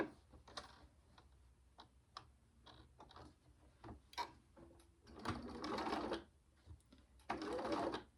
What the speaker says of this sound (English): I'm just stitching straight across the bottom here